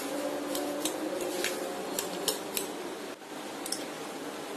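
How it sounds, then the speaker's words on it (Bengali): A whisk stirring sugar into mashed ripe banana in a bowl for banana bread, a continuous close scraping rustle with repeated light metallic clinks and no voices. "চিনি আর কলাটাকে আমি একটা হুইস্কি দিয়ে মিশিয়ে নিয়েছি"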